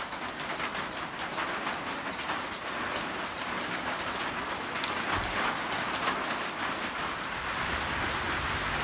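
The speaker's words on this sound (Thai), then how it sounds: "ฝนมันตกนะครับ" Steady rain falls outdoors as a dense, even patter that continues unbroken, with a few bird calls sounding faintly through it.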